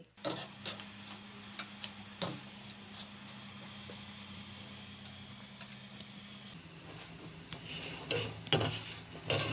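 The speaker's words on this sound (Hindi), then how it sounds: "गोल्डन कलर आने तक हम इनको फ्राई करेंगे।" Gram flour phulkiyan fritters deep-fry in oil until golden, a low continuous bubbling sizzle with scattered crackles and light utensil taps, fairly quiet throughout.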